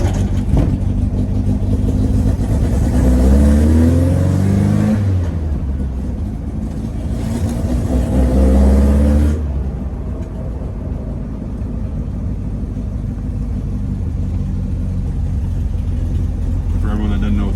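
A car on a test drive with newly installed shocks hums steadily from inside, its engine note swelling twice with revs before settling into a constant road drone, with a person talking over it.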